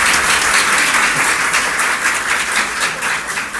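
Loud, continuous applause fills a birthday celebration honouring a chairman, with thick overlapping claps from a sizable crowd and no break.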